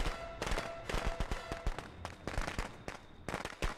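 A rapid, irregular string of sharp firecracker pops crackles in the Friday the 13th video game, the bursts fairly loud and close and scattered over a steady background din.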